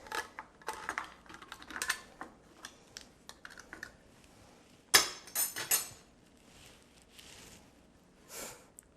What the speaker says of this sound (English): So to drain it really well, I'm just going to use the sieve